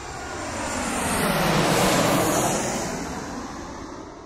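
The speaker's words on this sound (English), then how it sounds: "I made that recording of a Boeing 737 standing at the top of the runway here" A Boeing 737 at the top of the runway at Gander Airport. Its jet engines give a broad, roaring rush that swells to a peak and then fades, loud and continuous with no voices.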